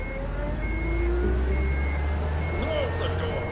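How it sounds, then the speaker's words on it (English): A video game truck engine turns over and settles into a low idle rumble, with faint tonal beeps and some distant background activity. "Crap, they started the engine."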